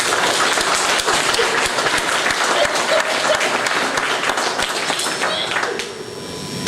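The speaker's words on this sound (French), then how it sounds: "je pense qu'on pourrait l'applaudir une deuxième fois" An audience at a book launch gives a second round of applause, a full, loud burst of clapping that fades near the end as someone starts to talk.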